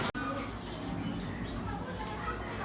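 Pigeons on a pigeon farm coo softly and chirp in the background of a quiet indoor space, faint and intermittent, with a brief click at the start.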